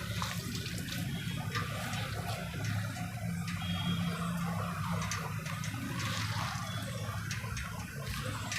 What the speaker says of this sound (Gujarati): પાણી બધું નિતારી લેવાનું